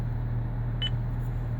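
A short electronic chime from the voice control system inside a Lexus RX350, sounding once at mid-level over a steady low cabin hum.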